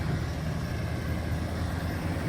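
A 2000 Toyota Tacoma extended-cab step-side 2WD pickup with 86K miles idling, a steady low engine rumble with constant even drone, moderately quiet and unbroken.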